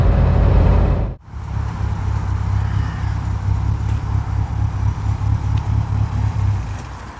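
A Ford Escort Mk2 1600 Sport, a South African-built car, drives along a road in South Wales, its engine droning steadily with road and wind roar after a brief dip in level near the start, no talk over it.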